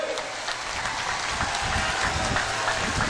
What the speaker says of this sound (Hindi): जरा जोर से ताली बजाओ दोनों के लिए